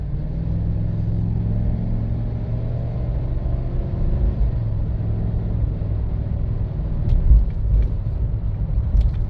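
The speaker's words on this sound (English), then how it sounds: "We're now going to go ahead and start pulling a grade here." A 2023 Chevy Silverado Z71 4x4 with a 5.3-liter V8 climbs a grade while towing a tractor, its steady low engine drone and road rumble continuous throughout, swelling slightly louder near the end.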